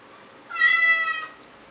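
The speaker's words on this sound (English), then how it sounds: "And that is the sound of the cat." A pet cat gives a single clear, drawn-out meow, close and alone against a quiet background.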